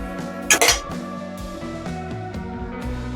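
A spatula stirs sauce into sautéed vegetables in a pan for red sauce pasta, with a loud metallic clink of utensil on pan near the start, then soft scraping under steady sustained tones, close and brief.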